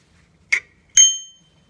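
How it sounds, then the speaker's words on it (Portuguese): A small bell with a compass, mounted on a slightly rusty folding bicycle, is struck twice: a short first tap, then a louder ring that lingers and fades, with no other sound around it. "Sininho com bússola."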